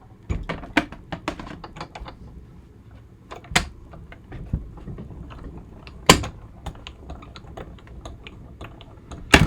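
A paper-and-die sandwich for a Stampin' Up! embossing and die-cutting project is cranked through a manual die-cutting machine, giving a run of close, irregular clicks, ratcheting ticks and sharp knocks with no talking.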